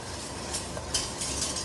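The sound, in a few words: deglazing a flour roux with broth in a pan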